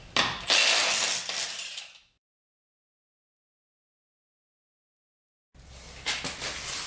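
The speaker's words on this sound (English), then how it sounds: "If you don't have a little 3/8 stubby gun like this, you are missing out" Short bursts from a 3/8 stubby impact gun working on a truck tie rod: loud, close rattling hammering for about two seconds, then silence, then another burst of rapid impacts.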